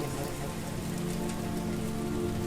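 Steady rainfall in Lahore, a continuous dense patter of drops on surfaces that stays even and unbroken throughout, with no voices.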